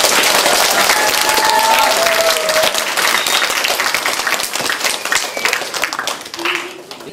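A crowd claps and applauds steadily, loud and dense throughout, gradually thinning toward the end.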